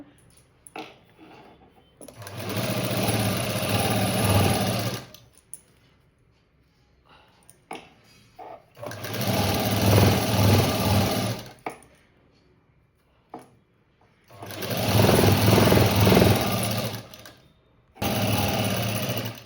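A sewing machine stitches a saree border onto a blouse in three long loud bursts of rapid mechanical whirring, separated by quiet pauses with small handling clicks.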